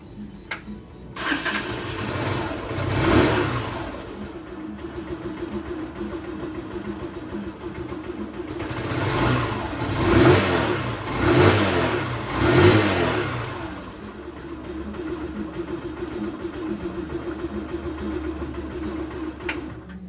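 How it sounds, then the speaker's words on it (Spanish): A motorcycle engine, just after a valve adjustment, starts up and runs steadily nearby, with a few throttle blips rising and falling over a continuous mid-pitched idle. "prender la moto para ver si disminuyó el ruido"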